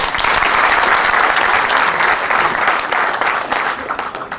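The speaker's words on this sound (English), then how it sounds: "Give me a round of applause." A roomful of listeners at a talk claps loudly and steadily, a dense, even wash of applause that holds for several seconds with no talking.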